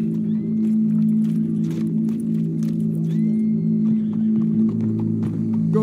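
Horse hooves clip-clop at a steady walk in the Red Dead Redemption 2 video game, set over a constant low droning hum, with no voices.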